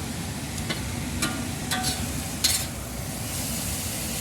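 Food frying softly in a pan, a low continuous sizzle broken by a few sharp scrapes and clinks of a utensil, while cooking kochurloti (a Bengali stuffed flatbread).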